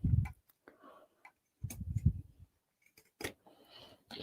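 A fabric sewing pattern is trimmed along its curve, giving several crisp cutting snips separated by short pauses, with low murmurs in between.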